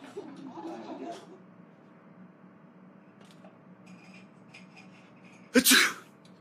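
A single sharp sneeze from a child sick with a virus bursts out near the end, loud and close, after a stretch of quiet room noise and faint clinking.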